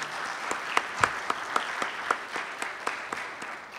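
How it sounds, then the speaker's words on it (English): Audience applause at the close of a small business keynote event in Lubbock, steady and fairly close, with a few sharper individual claps standing out over the dense clatter throughout. "if we could just have one more round of applause for all of our speakers today and our sponsors and partners"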